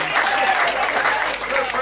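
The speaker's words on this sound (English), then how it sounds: "Now if we can all please give a rousing round of applause and welcome Kate's father, Peter, to come up and say a few words" Wedding guests applauding in a reception hall, a dense continuous round of clapping lasting a couple of seconds, with some voices mixed in beneath it.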